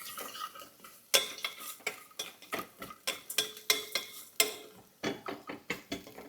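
Badiyan being stirred and fried in a pan, with a steady run of close metallic scrapes and clinks from the spoon against the pan, faint sizzling underneath, no talking.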